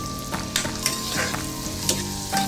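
Garlic frying in butter for butter garlic shrimp: a steady close sizzle with repeated spoon scrapes and taps against the pan, no voices.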